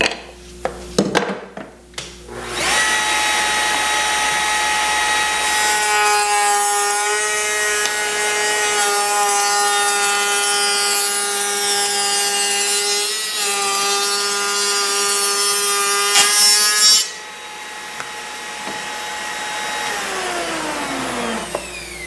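Wood panel edge being cut with a saw for a panel door, a loud continuous rasping and whining run with a steady high-pitched tone that lasts most of the clip, then tapers off near the end.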